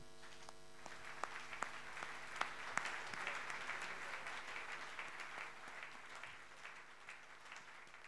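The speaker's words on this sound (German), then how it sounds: "Applaus bitte auch für den Moderator mit viel Herz." Faint, distant applause from an audience at a hospice anniversary celebration at Schallaburg, a steady soft patter of many hands over low hum, lasting throughout.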